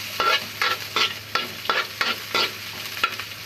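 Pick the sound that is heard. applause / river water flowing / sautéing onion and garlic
sautéing onion and garlic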